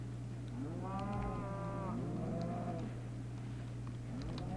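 Several cows moo in the Minecraft video game, long harmonic lowing calls overlapping one another at close range over a steady low background hum, with no talking.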